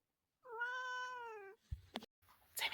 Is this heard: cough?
no